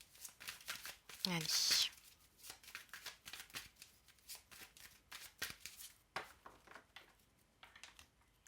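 Tarot cards being shuffled in a brisk riffle burst near the start, followed by lighter handling clicks and card taps under someone talking throughout.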